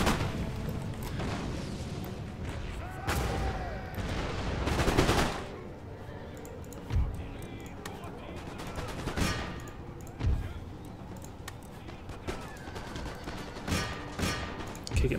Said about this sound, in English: Howitzers are in, firing on. Devastating volley.